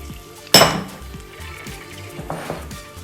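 Sweet chili, tomato and soy sauces go into a pan of sautéing garlic for sweet chili garlic chicken. A sharp, loud clank of cookware comes first, followed by a low sizzle and a few light clinks close by.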